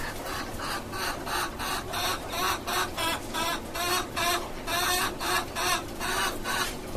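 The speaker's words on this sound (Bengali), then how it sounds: "টাইগার মুরগি। ও মাশাআল্লাহ ভালো বড় আছে" Tiger chickens cluck in a close, rhythmic run of short repeated pulses, fairly quiet and steady with no talking.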